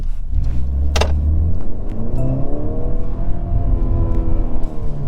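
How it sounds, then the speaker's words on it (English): A 2022 Mercedes C300 4matic in sport mode accelerates hard from inside the cabin, engine note rising continuously and loud with a steady climbing drone. "It's crazy though, you can really hear the acceleration."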